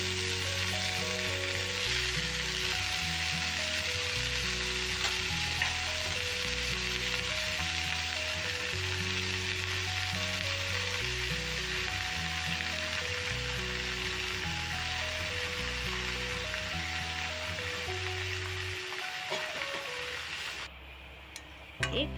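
Radish greens cooked with bori are stirred in an oily pan, giving a continuous, even sizzle and hiss with soft scraping, steady and fairly quiet for over twenty seconds with no one speaking.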